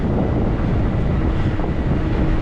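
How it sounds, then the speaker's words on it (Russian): Wind buffets a microphone during an electric motorbike ride in Abkhazia in November, a loud, steady roaring rumble that fills the whole stretch without a break. "Ох, ветер, падла."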